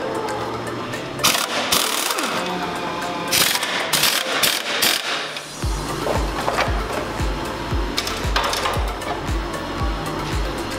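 Parts are removed from the winter brake assembly of an electric monster truck. A hand tool clicks and ratchets in irregular bursts, followed by a run of quick, rhythmic ratcheting strokes close by with mechanical rattling.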